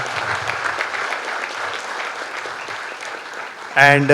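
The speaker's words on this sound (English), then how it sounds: "I think that makes a big round of applause" Crowd applause at a company anniversary celebration, continuous and fairly loud, ending as a voice begins speaking.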